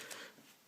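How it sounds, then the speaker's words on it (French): A man clears his throat in one short, loud, harsh burst at the very end, after a stretch of near silence with faint low murmuring. "je me racle la gorge"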